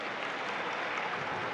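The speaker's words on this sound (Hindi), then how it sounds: "उनके लिए एक बार जोरदार ताली बजाकर साधुवाद।" A crowd at a Shiv Mahapuran katha gathering claps together for a Mahamandaleshwar, a dense, even wash of applause held at a steady level throughout.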